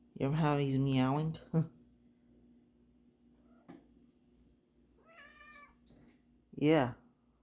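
A cat meows several times, with a long drawn-out call at the start and shorter cries later, close and clear in a quiet room between brief pauses.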